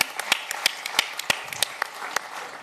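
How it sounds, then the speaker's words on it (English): A small audience at an advertising panel discussion claps briefly, with sharp irregular hand claps from a few people, fairly near and alone without talk. "I think that deserves a round of applause."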